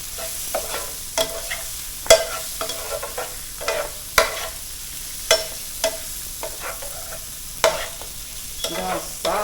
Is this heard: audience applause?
no